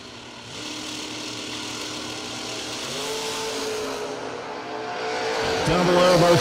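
A Corvette Roadster runs down a racetrack, its engine note rising and growing louder toward the end with a rising pitch as it accelerates, with crowd and announcer noise faintly underneath.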